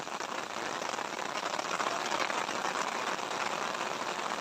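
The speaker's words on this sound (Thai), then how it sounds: "ฝนก็ตก" Steady, dense rain pours down in a continuous hiss with no breaks, filling the whole stretch evenly.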